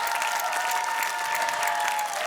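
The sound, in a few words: audience applause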